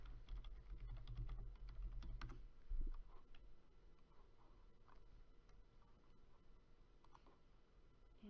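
Quiet typing on a computer keyboard: a run of light, irregular key clicks over a low background hum, close but soft.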